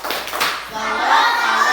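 Children in a classroom do a 'tepuk salut' clapping chant for group 2, with a few quick claps near the start giving way to voices chanting together.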